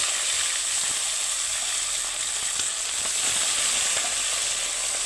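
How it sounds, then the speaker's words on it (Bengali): Fish heads fry in hot mustard oil for a Bengali lau ghonto, a loud, close, steady sizzle and crackle of spitting oil with scattered pops and no talking. "আমার তেল গরম হয়ে গিয়েছে। এখন দিয়ে দেব মাছের মাথা।"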